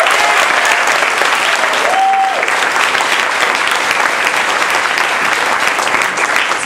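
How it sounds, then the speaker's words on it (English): A large audience at a Toastmasters District 30 speech evaluation contest applauds the contest chair and Toastmaster, with dense, steady, loud clapping filling the room throughout and a brief whistle-like tone partway in. "another round of applause"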